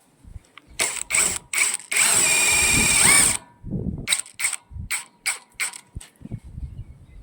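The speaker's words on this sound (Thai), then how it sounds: "ทำไมถึงไม่ควรนำสกรูแบบนี้มายิงไม้ฝาเชอร่า เดี๋ยวผมจะทดลองให้ดูนะครับ" Winged screws driven by a screw gun into Shera fiber-cement siding boards: a long whirring burst of the driver with brief bursts and ratcheting clicks around it, close and loud, no talk.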